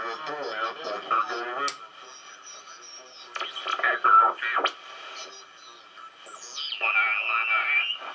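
A Hallicrafters SX-130 receiver picks up a shortwave voice on the wrong sideband, so the speech comes out as garbled, pitch-shifted squawks that rise and fall in bursts, faint and thin over a quiet background.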